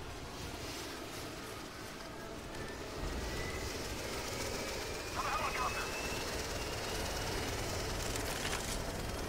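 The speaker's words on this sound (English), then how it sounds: "On the helicopter!" A helicopter in the video game Left 4 Dead 2 hovers with a steady, muffled rotor drone that grows slightly louder partway through, under game noise and shouted voices.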